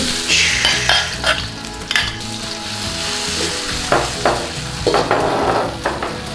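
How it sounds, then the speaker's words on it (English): Beef stir-frying in hot oil in a pan, a loud close sizzle with repeated spatula scrapes and clanks as the meat is tossed around. "Give it a nice quick stir fry in there."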